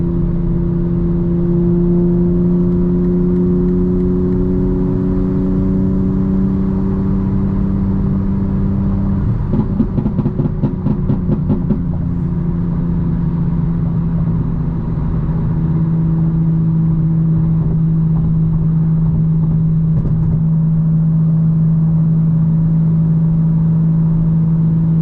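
An old Toyota sits by the roadside with its engine running steadily nearby. A brief rev swells near the middle before it settles back to a smooth idle.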